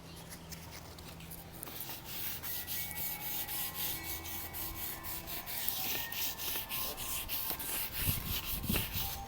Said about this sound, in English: First, let's start sanding them down, and I'll show you how.